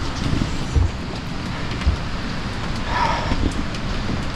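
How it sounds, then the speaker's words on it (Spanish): Light morning rain falls steadily at a rural mill house, a soft, even hiss with a few low thumps and a brief brighter splash partway through. "Una ligera lluvia mañanera."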